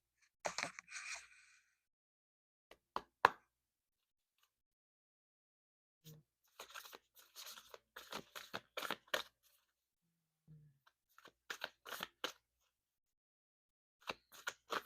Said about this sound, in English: I'm about to shuffle this oracle.